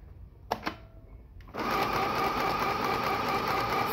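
Sewing machine stitching fabric, starting after two short clicks with a loud, steady mechanical whir that runs continuously to the end, close and alone.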